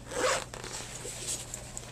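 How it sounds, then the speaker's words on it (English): A zipper on a bag is pulled in a quick, close burst, a brief scratchy zip followed by a few softer tugs, clear and alone in a quiet room. "gotta zip a little more."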